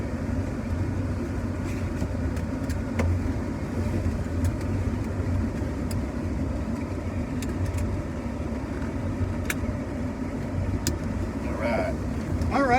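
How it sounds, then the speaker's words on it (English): A Ford Taurino car driving, heard as a steady low engine and road rumble from inside the car, with occasional small clicks and rattles and faint voices. "we are taking a spin in the Taurino"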